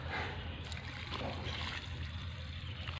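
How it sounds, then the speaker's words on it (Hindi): Water is poured onto plants in a field, making a steady, continuous splashing trickle that runs throughout at moderate volume with no talking. "तो अभी पानी डाल देते हैं।"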